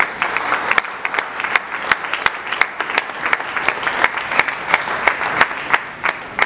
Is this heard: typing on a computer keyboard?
no